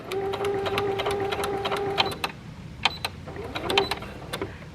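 Sewing machine stitching elastic onto pants, rapid bursts of needle clatter with a motor whine, pausing briefly between runs, close and clear.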